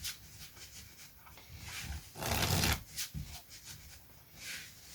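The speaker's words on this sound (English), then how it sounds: "we give the cards a good shuffle like this" A deck of playing cards is riffle shuffled during a card-handling demonstration, giving a short, dense rustling burst near the middle over quieter handling noise.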